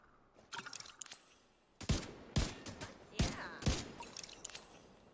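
Pistol gunfire in The Division video game, a handful of sharp, loud single shots spaced roughly half a second apart after a few quieter clicks and rattles.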